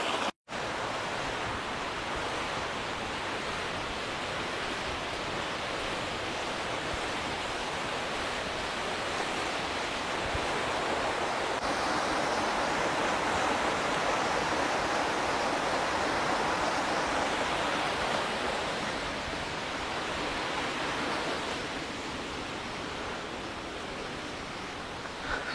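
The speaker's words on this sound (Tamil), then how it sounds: "ஸோ இங்கே சின்னதாக ஒரு தண்ணி நீரோட மாதிரி இருக்குது." A small water stream flowing along a trekking trail to Yana Cave, a steady broadband rush of running water close by that continues unbroken for the whole stretch, with no voices.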